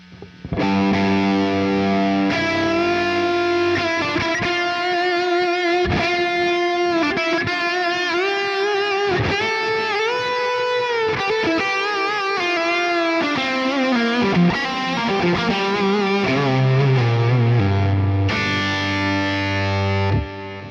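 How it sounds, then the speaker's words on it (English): A distorted electric guitar through a Quad Cortex overdrive plays crunchy overdriven chords and single-note lines, loud and continuous, with a gritty saturated tone throughout. "Let's pick an overdrive."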